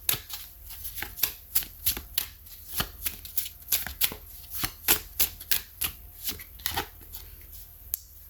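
Tarot cards are shuffled by hand in a quiet room, a rhythmic series of crisp riffling snaps and soft slaps repeating roughly every half second, close and fairly faint, with no talking.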